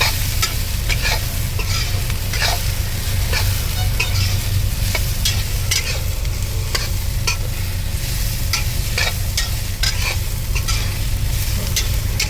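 Beetroot for poriyal sizzles loudly and steadily in a pan while a spatula scrapes through it again and again, close up, with no voices.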